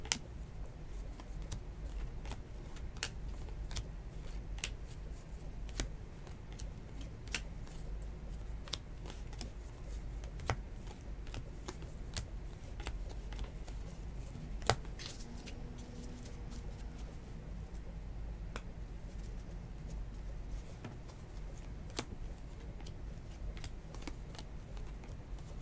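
Baseball trading cards from 2019 Bowman hobby boxes being sorted through by hand, giving soft, irregular ticks and shuffles over a steady low background hum, with no talking.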